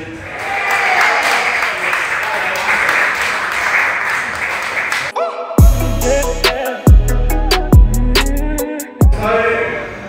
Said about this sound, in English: a big round of applause for our new ladies club champions